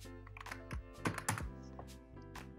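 Code being typed on a computer keyboard, a quick run of close, clicky keystrokes with short pauses between them, soft and with no voices.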